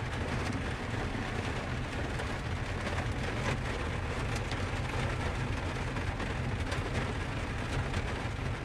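Rain patters steadily in a dense, even hiss, fairly quiet and constant throughout with no voices.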